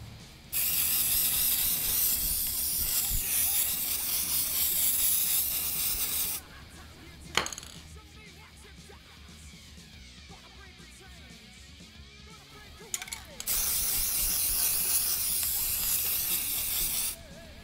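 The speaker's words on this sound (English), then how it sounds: "I'm using this Rust-Oleum Matte Clear Coat" A Rust-Oleum matte clear coat spray can hissing steadily in two long close bursts, separated by a quieter pause with a few faint clicks and handling noises.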